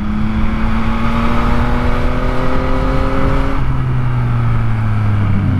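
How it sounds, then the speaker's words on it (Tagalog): A Yamaha MT-09 motorcycle engine pulls hard uphill with a loud, steady rising whine, then shifts to a lower pitch and climbs again, over constant wind rush. "Malakas umakyat ang MT-09."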